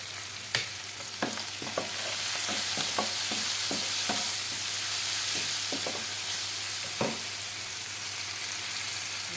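Shrimp and onion sizzle steadily in a hot pan, a continuous bright frying hiss broken by several sharp clicks of stirring, close and alone with no voices.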